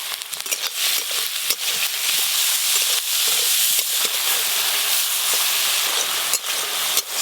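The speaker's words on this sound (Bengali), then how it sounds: "চিংড়ি মাছগুলো ভেজে নেব।" Prawns frying in hot mustard oil with turmeric and salt give a loud, steady sizzle and hiss that fills the whole stretch, broken by small crackling pops, with no voices.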